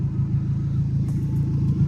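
A loud, steady idle from a 2000 Nissan Frontier pickup truck engine with a deep low rumble, close by and continuous, with no belt squeal and no talking.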